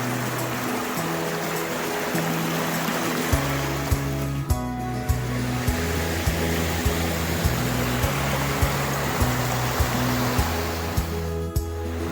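River water flows steadily and loudly in a constant rushing wash during gold panning, close to the current, with a low repeating hum running underneath and no talking.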